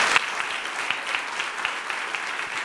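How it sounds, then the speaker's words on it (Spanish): Audience at a children's reading-aloud contest applauding with steady, dense clapping from a crowd that holds evenly throughout at moderate distance. "¡Un aplauso, Miriam!"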